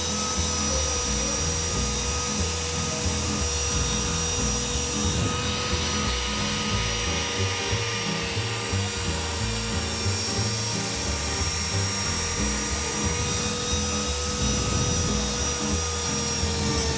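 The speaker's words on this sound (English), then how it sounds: "Clean that up with a Dremel." Dremel rotary tool grinding to clean up a crack repair, a continuous high whine with a rough buzzing undertone, steady and close for the whole stretch.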